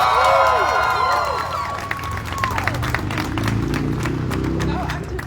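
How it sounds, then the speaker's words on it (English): A crowd at a Palestine ceasefire rally in Denver claps and cheers loudly at close range, the applause steady and dense, with voices calling out and chatter mixed in. "I want you all to give a round of applause for my sister and Palestinian, Aya Ziada"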